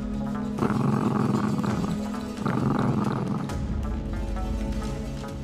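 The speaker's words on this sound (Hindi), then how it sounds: "ये कुत्ते के घुराने के आवाज तुम निकाल रहे हो ना?" A dog growls low and steady in the background, the rumbling snarl rising and falling in a few sustained waves, fairly close and alone without speech.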